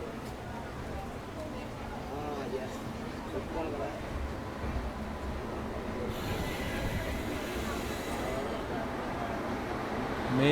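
Onboard the 12717 Ratnachal SF Express with upgraded LHB coaches, departing Duvvada on the main line, a steady low rumble of rolling wheels and carriage noise continues under someone talking throughout.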